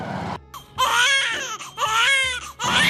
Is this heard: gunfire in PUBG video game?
no